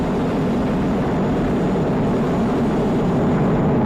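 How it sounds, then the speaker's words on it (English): The Falcon 9 rocket engines roar during the NASA and SpaceX Crew-8 launch from Kennedy Space Center, a loud, steady, broadband rumble that holds without a break and with no voices. "Falcon 9 engines now throttling down to help pass through the period of maximum dynamic pressure"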